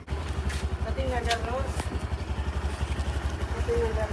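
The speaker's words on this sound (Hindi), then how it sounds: "ये मोटरसाइकिल कहाँ जा रहा है?" A motorcycle engine runs steadily nearby with a rapid, even low putter and clatter throughout, while voices are faintly heard in the background.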